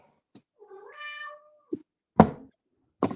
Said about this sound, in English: cat wants out.